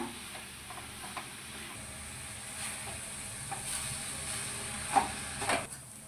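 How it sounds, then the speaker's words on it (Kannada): Grated carrot for halwa frying in ghee in a pan, a steady soft sizzle under intermittent stirring scrapes that grow louder near the end, close and without speech. "ಹಸಿ ವಾಸನೆ ಹೋಗೋದು ಚೆನ್ನಾಗಿ ತುಪ್ಪದಲ್ಲಿ ಫ್ರೈ ಮಾಡೋಣ"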